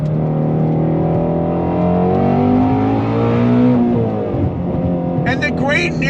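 A 2020 Shelby GT350R under throttle, its engine note climbing steadily as revs rise, loud and close from inside the car, with someone talking over it the whole time.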